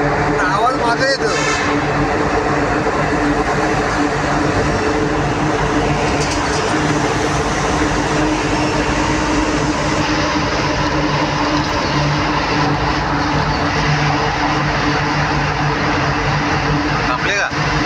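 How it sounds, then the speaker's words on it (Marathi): A train running through the Kasara tunnel, a loud, steady broadband roar that fills the enclosed space and holds throughout, with voices talking over it. "गाडी ती चालली पुरं आवाज मागे येतो"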